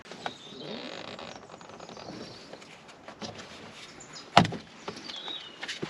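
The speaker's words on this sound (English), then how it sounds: "We now need to pop this plastic off the top left, top inner side of the door here." Plastic trim on the top inner side of a Volkswagen Polo car door is prised off, with quiet fiddling and scraping before one sharp, loud snap as it pops free, then light clicks.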